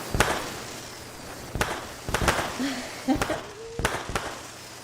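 Fireworks go off at an outdoor event, with sharp, loud pops and cracks at irregular intervals and a couple of whistling tones between them, as voices talk nearby.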